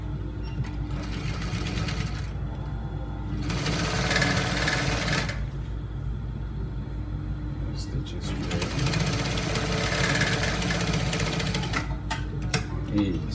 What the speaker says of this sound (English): now I'll start the stitch.